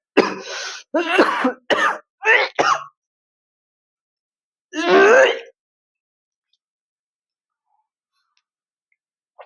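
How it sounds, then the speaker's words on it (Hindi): Several harsh coughs in quick succession, then a pause and one more rough cough, close and loud against silence. "खांसी आने लगा, पूरा गला हमारा पूरा बैठ गया।"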